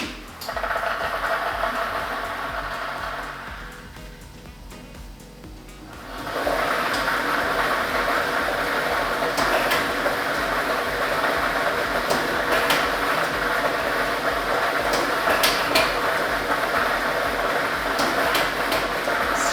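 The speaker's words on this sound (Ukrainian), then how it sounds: "І ми вмикаємо лототрон." A lottery draw machine is switched on for a national lottery broadcast and spins its numbered balls, a steady loud whirring and tumbling rattle with frequent sharp clacks as the balls collide, continuing for many seconds after a brief quieter lull.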